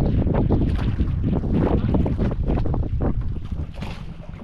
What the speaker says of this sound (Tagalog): Naglakas kasi yung hangin.